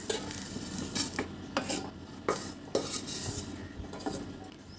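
Vermicelli (semiya) being stirred in a kadai with a metal spoon for a Ramzan sweet, giving repeated sharp scrapes and clinks against the pan over a low, steady background, no talking.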